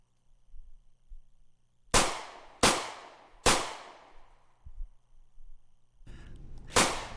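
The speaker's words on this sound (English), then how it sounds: "Those gunshots you heard were just a little practice in the background." Four sharp gunshots, three in quick succession then a pause before the last, each ringing out with a long echoing decay.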